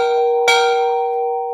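A single bright bell strike rung to mark a sale at a charity auction event, one sharp clang followed by a long clear ringing tone that slowly fades, heard alone without voices.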